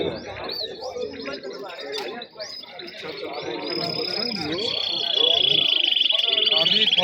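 Caged songbirds at a bird market in Chorsu, Khorezm, chirping and trilling continuously over busy market chatter and nearby talk, with a bright sustained warble building toward the end.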